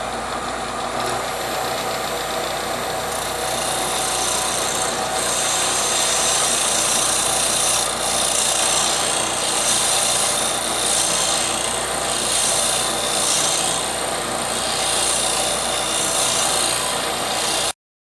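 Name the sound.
wood lathe turning a small lidded wooden box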